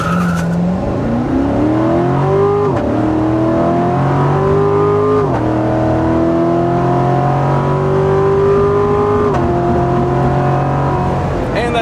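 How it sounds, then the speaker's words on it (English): A 2019 Chevrolet Corvette C7 Stingray accelerating hard, its V8 engine climbing through the revs with loud, steady pulls, a short drop at each upshift and the note rising again, close and sustained throughout. "You guys want to see me accelerate again, right?"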